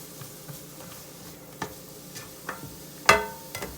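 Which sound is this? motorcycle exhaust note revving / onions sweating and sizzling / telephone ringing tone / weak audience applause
onions sweating and sizzling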